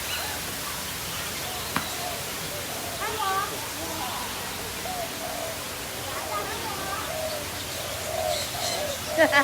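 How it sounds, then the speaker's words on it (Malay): Birds call and pigeons coo intermittently at a tropical theme park, scattered chirps and soft coos over steady rushing water-like background noise, with occasional people's voices. "Dia tangkap burung, kejar burung."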